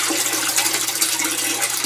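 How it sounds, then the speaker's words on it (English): Steady running water in a home aquaponic garden system as a grow bed fills, a continuous close splashing trickle with no talk. "like home with that running water in the background"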